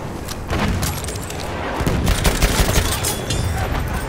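Sustained Chauchat machine gun fire on the Verdun map in the video game Battlefield 1, a dense, loud run of bursts and booms layered with distant battlefield shots for the full length, with no voices.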